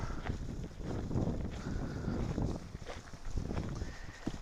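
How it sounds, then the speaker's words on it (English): Gusty desert wind in Quartzsite, Arizona buffets the microphone in uneven surges, with faint creaks and knocks in the background. "the way the wind blows here"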